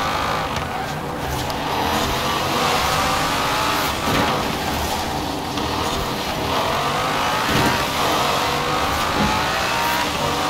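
A 2016 Dodge Viper ACR in Forza Horizon 4 accelerates hard, its engine droning loudly and continuously with rising and falling revs, close and steady, with faint voices mixed in.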